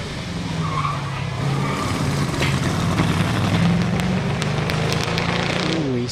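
A hillclimb race car engine at Loton Park roars steadily at high revs, slightly uneven and stuttering from a slight misfire, with tire noise and faint crackles over a constant mechanical drone.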